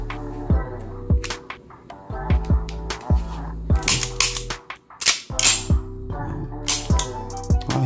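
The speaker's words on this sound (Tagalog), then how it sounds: "Parang bakal na bakal talaga tunog ng yung kalansing" WE M92 Beretta airsoft pistol being handled, with a series of sharp metallic clacks and slide racks in an irregular rhythm, close and crisp, some quick double clicks and a louder rattling clank midway.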